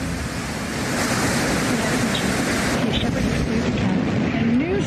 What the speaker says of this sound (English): Command engine start.